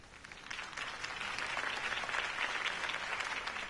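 A crowd at a campaign rally in a Batman video game breaks into applause after a speech, a dense wash of clapping that swells slightly and holds steady, moderately distant.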